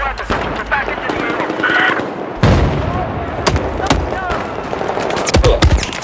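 Sustained machine gun fire from a bipod-mounted weapon in Battlefield 4, loud rapid bursts with booming shots and battlefield noise, while someone talks over it.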